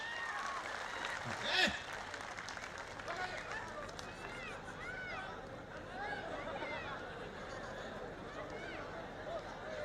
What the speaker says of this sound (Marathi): यांच्या दोघांसाठी सगळ्यांनी टाळ्या वाजवायच्या